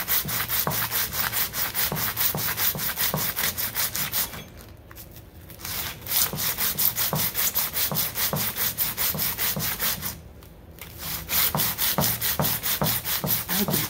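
A chromatic harmonica slider being sanded by hand, close up: steady, rapid back-and-forth rasping strokes in a continuous rhythm, with two short pauses where the scraping stops before resuming.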